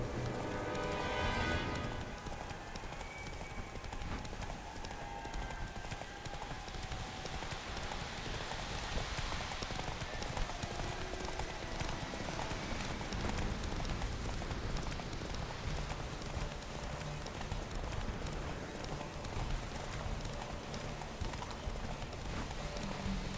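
Geralt's horse Roach gallops in The Witcher 3, with continuous rapid clip-clop hoofbeats throughout and a neigh near the start, steady and fairly loud with no talking over it.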